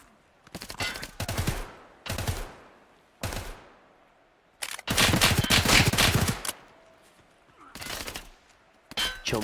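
Bursts of gunfire crack loudly in the Hunt: Showdown video game, several separate shots followed by one long sustained volley and more bursts, with no talk over them.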